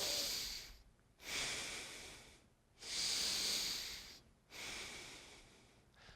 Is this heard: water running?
no